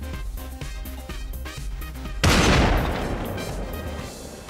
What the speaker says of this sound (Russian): Ой, в меня стреляют